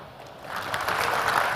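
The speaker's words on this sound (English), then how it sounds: "applause for MC" Conference audience at React India 2022 applauding the MC, a brief wash of clapping that swells from soft to fuller over about a second and a half, with no talk over it.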